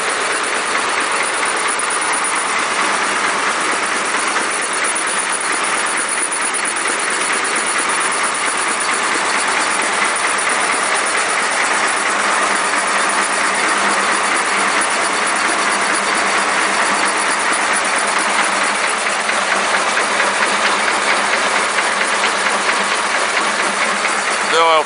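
An air compressor engine idles at a few hundred RPM after work, a loud continuous mechanical drone and clatter that holds steady for the whole stretch, close up, with no clear voices over it.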